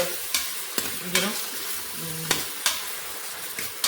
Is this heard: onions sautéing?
yes